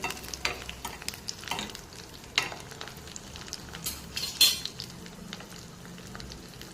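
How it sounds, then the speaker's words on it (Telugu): Garlic fries in oil with fenugreek seeds for a Malabar spinach dish, giving a close, constant sizzle punctuated by repeated sharp scrapes and clicks of stirring. "మెంతుల తర్వాత వెల్లుల్లిపాయలు వేసాను, ఇది కూడా వేగిపోతున్నాయి."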